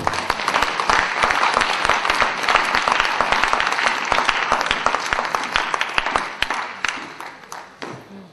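A church congregation applauds loudly and steadily, many hands clapping in a dense, sustained burst that gradually thins and fades toward the end.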